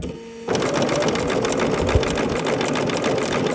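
A domestic sewing machine starts up after a brief pause and runs steadily, stitching an appliqué heart onto fabric with a fast, even mechanical rattle close to the microphone.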